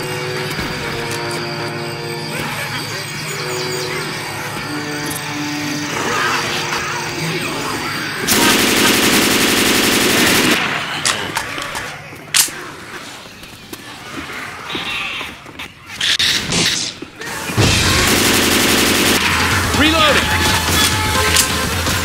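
Gunfire in the Left 4 Dead 2 swamp level crackles in loud sustained bursts between quieter stretches, with sharp single shots and busy game noise around them.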